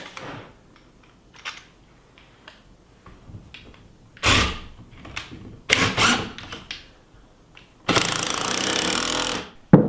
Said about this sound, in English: then put a couple of screws in